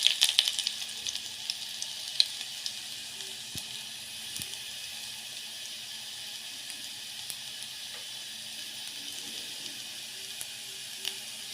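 Garlic browned in hot oil crackles softly as mustard seeds and cumin go in for a Kathiyawadi dahi tikhari, a faint, steady sizzle with small pops, close by and with no talking.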